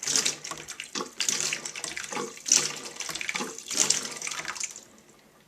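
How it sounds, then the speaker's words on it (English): Water spurts and splashes in bursts from the squeezed bulb of a Miracle-Gro AeroGarden Bounty lettuce garden, several uneven gushes close by, tapering off near the end with no talk. "I thought every time I squeeze it the water comes out"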